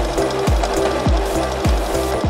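A sewing machine stitching a jumpsuit runs loud and close, its motor thumping in a fast, even rhythm of repeated mechanical strokes with no one speaking.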